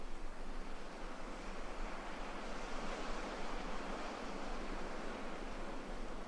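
Ocean surf at dawn in Bali rolls on as a steady, broad wash of breaking waves and hiss, constant and enveloping with no distinct pauses or voices.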